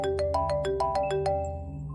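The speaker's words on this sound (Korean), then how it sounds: "한참 정리를 하던 중 전화벨 소리가 들렸대." A telephone rings with a repeating electronic melody of short bright tone bursts, about eight quick beeps in two seconds before trailing off, clear and alone with a faint hum beneath.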